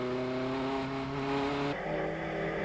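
TVR Tuscan V8 race cars power up through a chicane during the 1999 Tuscan Challenge, a loud, droning engine roar rising in pitch, then dropping sharply at a gear change before pulling hard again.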